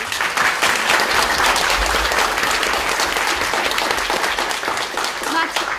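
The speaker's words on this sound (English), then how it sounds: "but Martina, if you could stand up so we could give you a round of applause." A round of applause from the audience at an academic gender institute anniversary forum, loud sustained clapping from many people that holds steady for several seconds.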